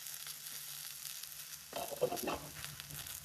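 Okra frying in a pan on a lowered flame: a faint, quiet hiss at first, then a louder burst of sizzling and spatula movement partway through.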